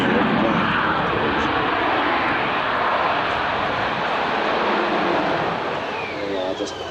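A Hercules aircraft landing at the Biggin Hill airshow makes a continuous loud, broad engine roar that holds steady and then eases slightly near the end, with a commentator speaking over it.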